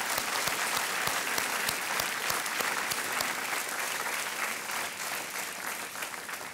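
Sustained, dense audience applause from a studio crowd welcoming a contestant on the Indian quiz show Kaun Banega Crorepati, loud and steady throughout before easing slightly near the end.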